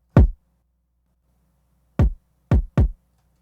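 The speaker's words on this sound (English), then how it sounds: "For the kick, I used a sample that I got out of Loopcloud" A Loopcloud kick drum sample without the Knock plugin hits four times, alone and fairly quiet: one punchy thump, a pause of nearly two seconds, then three quicker hits in a row, each with a sharp attack and short booming tail.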